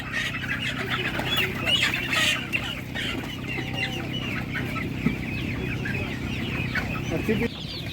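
Domestic chickens, including young Spanish-breed hens, cluck steadily at a busy animal market, with a dense crowd murmur and bustle beneath the calls throughout.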